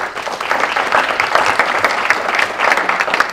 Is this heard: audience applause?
yes